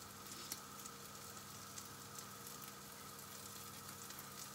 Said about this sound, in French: Je vais mettre un petit peu d'huile dessus pour que ça dore.